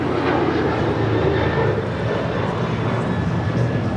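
A United Airlines Boeing 737-900ER takes off from Los Angeles International, its jet engines giving a steady, fairly loud rumbling roar throughout with no talking.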